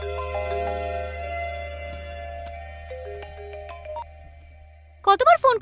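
A phone ringtone from a 2022 Bangla-dubbed film scene rings steadily for about five seconds as a melodic electronic tone, then stops as a voice begins speaking.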